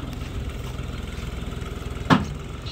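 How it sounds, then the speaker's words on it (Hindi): A New Holland 7510 tractor engine runs at a steady low rumble while spreading soil, close by, with a brief louder knock near the end. "देख लो जोड़ की माटी डाल रहा है ट्रैक्टर"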